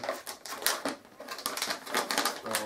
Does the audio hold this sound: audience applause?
no